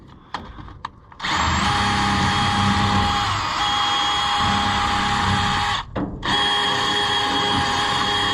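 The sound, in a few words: wire wheel on power tool cleaning Oliver 7300 combine part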